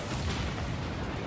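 A car exploding in Rocket League, a brief noisy burst and rumbling blast that fills the clip, fairly faint in the game mix with no voice.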